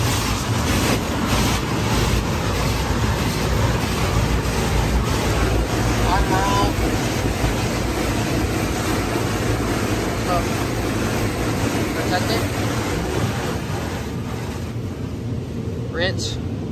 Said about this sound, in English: So that's spot free rinse.